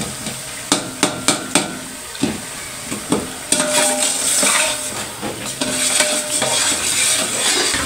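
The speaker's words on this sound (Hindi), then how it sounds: "मसाला भुन जाएगा, फिर इसमें डालेंगे हम अपनी सब्जियां" Masala spices being stirred and roasted in a cooking pot with tamarind: several sharp spoon-on-pot knocks up close, then a steady, loud sizzle with scraping under it.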